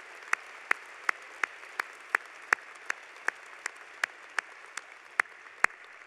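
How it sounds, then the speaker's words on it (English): A few scattered, sharp claps ring out one at a time at a steady pace at a medical school white coat ceremony, thanking a pipe band, faint and sparse against a quiet room. "please just join me in giving them a round of applause"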